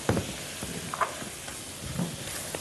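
Stirring butter and flour together in a pan for a béchamel roux, a continuous gentle sizzle with soft scraping stir strokes at irregular intervals, close and moderately loud.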